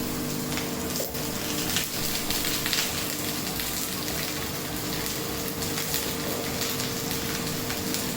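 Vegetables sautéing in a pan on an electric stove give off a steady, loud sizzle with a hiss like running water that continues throughout.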